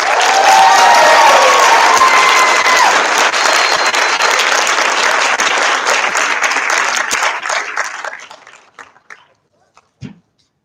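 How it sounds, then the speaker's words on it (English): A school moving-up ceremony crowd gives the class of 2021 loud, dense applause with cheering and whoops, sustained and then thinning into scattered claps before fading to near silence, with one last clap or thump. "Can we get another round of applause for the class of 2021?"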